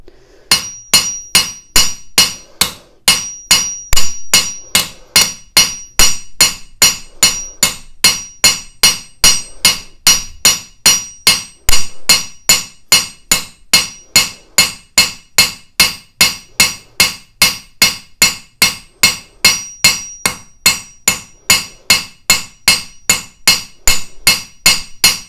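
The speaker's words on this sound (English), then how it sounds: "you don't want your arm to be tight hammering" A jewelry hammer strikes metal in a long, steady series of sharp, ringing blows, dozens of evenly spaced hits close up with no speech.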